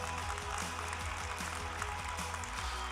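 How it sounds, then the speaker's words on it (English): Sustained applause from a large commencement crowd at a Georgia Tech engineering master's graduation, honoring graduates' families; dense steady clapping fills the hall throughout, with no voices on top. "clap for them."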